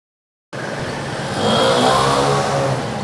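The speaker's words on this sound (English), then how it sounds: "Taiwan cop car." A Taiwan police car drives past on a street, its engine and tire noise rising from quiet into a loud, steady passing roar, with no talk.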